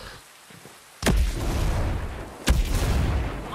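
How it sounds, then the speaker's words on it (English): A grenade detonates in the Ghost Recon Breakpoint video game, delivering two sharp, loud booms about a second and a half apart, each followed by a sustained roar of broadband rumble and debris. "Throwing a grenade."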